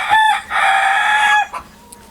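A rooster crows loudly and close by, one drawn-out cock-a-doodle-doo with a brief break, followed by a short quiet cluck.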